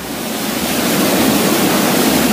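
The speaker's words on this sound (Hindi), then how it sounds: "इस जगह पर पानी का बहुत ज़्यादा शोर है और पानी का बहाव भी बहुत तेज है" A loud, fast-flowing, very cold mountain stream on the Rudranath trek in Uttarakhand roars as a dense, continuous rush close by, with no voices over it.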